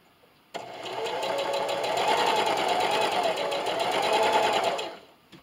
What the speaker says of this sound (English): I'll be using a straight stitch and a 1/4 inch seam allowance. And I'm just going to sew right down this side.